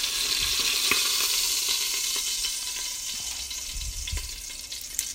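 Chicken pieces browning in hot oil in a soup pot give a steady, dense sizzle and crackle, close and fairly loud, with a few sharp pops and some stirring scrapes, and no voices.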